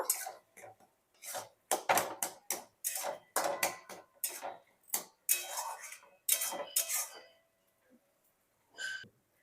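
Vegetables and lentil dumplings stirred in a pan for a greens dish, with irregular scraping and clinking bursts of spoon against metal separated by short pauses.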